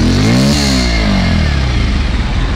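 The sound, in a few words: Bajaj Pulsar 125 BS6 motorcycle engine starting, quiet exhaust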